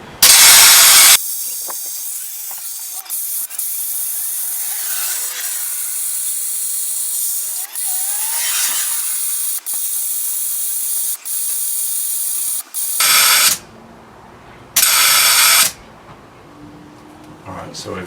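Air hisses steadily out of a 4x4 tyre as it is aired down with a Milton valve removal tool, a loud continuous rush lasting over ten seconds, followed by a few shorter bursts with voices talking.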